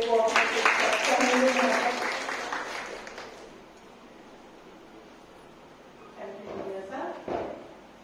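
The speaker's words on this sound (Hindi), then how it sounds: "स्वागत कीजिए तालियों से" A crowd at a Women's Day program claps loudly for about three seconds, then the clapping fades to a low murmur, and a few scattered claps return near the end.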